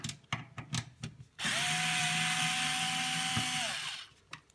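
A power screwdriver unscrewing the screws holding a computer power supply, a short handling clatter and then one steady whirring run of about two and a half seconds, close and fairly quiet, with faint taps after it stops.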